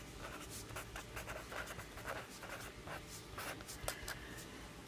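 A pen scratches across paper while a probability answer is written out, giving quick irregular strokes that are close but faint against a quiet room.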